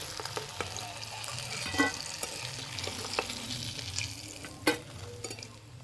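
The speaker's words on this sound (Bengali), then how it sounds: "বাকিগুলো একই রকম করে ভেজে নেব" Gokul pitha sizzling as it fries in hot oil, a steady crackling bed with occasional louder pops and a few stirring clinks, close and moderate in level with no voices.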